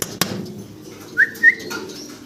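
A pair of black-faced fancy pigeons calls with two brief soft notes in quick succession, close by in a quiet space. A sharp click sounds just before.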